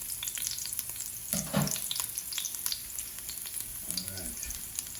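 Garlic frying in hot oil for oxtail crackles and sizzles continuously, with a couple of stirring scrapes and clatters partway through.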